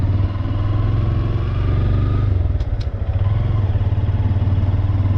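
A Honda Grom motorcycle ridden through a second-gear turn, its small engine holding a steady, loud buzzing drone close to the rider, with wind noise and no talk.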